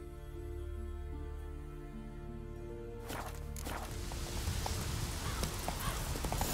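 Hooves of Roach, a horse in The Witcher 3 video game, clopping in a steady rhythm that starts partway through over a low musical drone, with the footfalls growing slightly louder toward the end.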